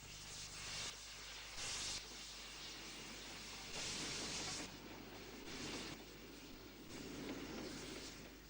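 Standard Class 5 steam locomotive 73028 works a Birmingham-bound main line train at Pike's Pool, heard as a broad, faint rushing roar with rhythmic surges of exhaust.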